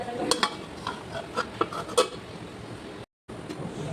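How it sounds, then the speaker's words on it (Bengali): A spatula stirs dhekia shak (fiddlehead fern greens) with prawn in a pan, giving soft scraping and light metallic taps at an irregular pace, fairly quiet under a faint background hiss. "শাকটি দেওয়া হয়ে গেলে কিছুক্ষণ নাড়াচাড়া করতে করতে যখন জল বেরোবে শাক থেকে"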